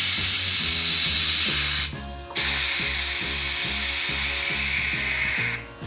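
Onboard air compressor filling a scooter's air ride system, running loud and close with a rhythmic mechanical pulsing under a strong hiss, cutting out briefly near two seconds and again at the end.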